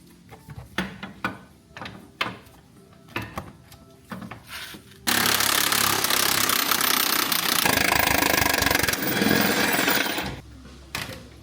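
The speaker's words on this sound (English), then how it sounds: "what I've got to do is actually drop the K-frame sort of this much to allow me to get the engine out" Mechanics' tools at work while dropping the K-frame to pull the engine from a Range Rover Sport on a garage floor: scattered knocks and clanks, then a loud continuous rattling power-tool burst lasting several seconds, close and without talk.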